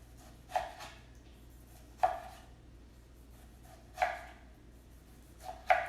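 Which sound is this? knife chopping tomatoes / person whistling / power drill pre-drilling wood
knife chopping tomatoes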